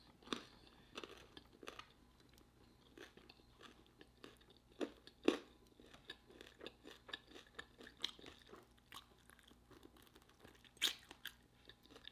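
Close, crisp crunching and chewing of Popeyes Sweet N Smokey Chipotle chicken wings eaten at home, irregular bites and mastication sounds repeating steadily, quiet otherwise with sharp louder crunches.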